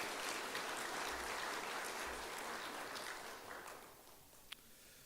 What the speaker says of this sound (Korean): 우리 수고하신 모든 분들 큰 박수로 또 우리 서로 격려해 주시기 바랍니다.